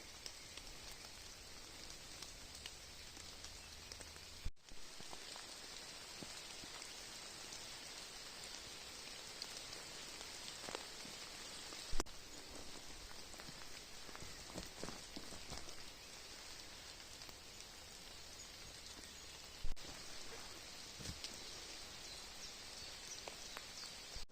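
Soft, steady rain patters through a Carpathian mountain forest in April, a quiet even hiss broken by a few sharper drips and small knocks, with no voices.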